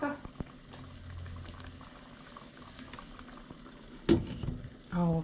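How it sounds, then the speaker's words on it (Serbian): Water bubbles steadily in a pot of food simmering on a home stove, a soft continuous boil with a brief clatter and a short burst of speech near the end. "neka se sad tu kuha."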